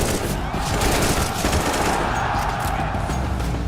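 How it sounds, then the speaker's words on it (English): Rapid, dense gunfire from the video game Counter-Strike 2, a continuous loud volley of overlapping shots with no speech. "firing a weapon looks pretty simple. You click your mouse, your character shoots, your target takes damage"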